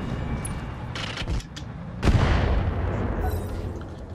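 Turrets firing in the RogueTech mech game, a few heavy booming blasts with a strong impact near the middle over a rumbling battle bed.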